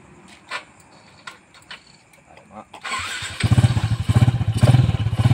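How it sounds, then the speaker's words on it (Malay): Yamaha LC135 V1 motorcycle engine, freshly refilled with new oil, cranks after a few faint clicks and catches into a loud, steady, fast-pulsing idle close by. "so we need to run the engine first"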